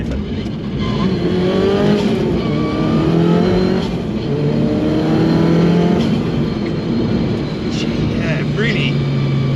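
A tuned 460 bhp Mk1 Audi TT quattro accelerating hard with short shifts, its loud engine note climbing steadily through the gears with brief dips at each change and no pauses between them.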